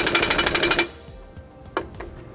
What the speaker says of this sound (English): you can tighten those back down using a 1 1/8 inch socket